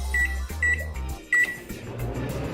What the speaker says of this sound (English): you're going to put it in the microwave for about 20 seconds.